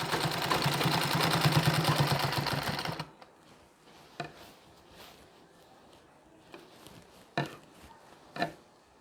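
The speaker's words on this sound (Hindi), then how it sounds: "इस भाग को दबाने के लिए ही हम एक और सिलाई लगा रहे हैं" Sewing machine running a second line of stitching to press down a Nauvari saree strip, a close, rapid rhythmic whir for about three seconds, then stopping, followed by quiet handling clicks and taps.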